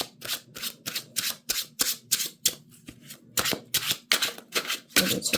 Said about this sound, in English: maybe we'll do one more shuffle here.